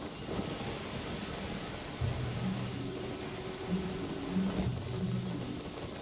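Steady, hissing rainfall in the video game Genshin Impact, continuous and fairly close, with low rumbling thunder swelling in a few times beneath the downpour; no voices.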